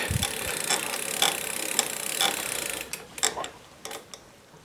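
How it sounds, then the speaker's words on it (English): A bicycle pedal is tightened onto a new crank with a ratcheting tool, giving a rapid run of crisp clicks that slows into a few separate, spaced ticks near the end. "Just got to tighten this other pedal up before I forget onto the new crank."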